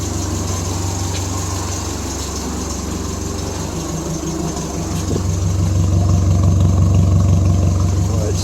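Triumph Spitfire 1500 with performance parts idling steadily, a low rumbling engine note that swells louder in the second half, with a faint hint of a slight exhaust leak.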